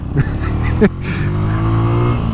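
A Harley-Davidson motorcycle engine passes close by with a loud, steady rumble under constant road and wind noise, heard while riding a motorcycle.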